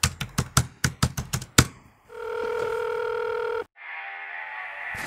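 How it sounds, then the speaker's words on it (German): A telephone is dialed for a test call: a quick run of about nine sharp keypress clicks, then a steady ringback tone that stops and gives way to a hissy line tone, with no voices. "Starten erstmal einen Testanruf."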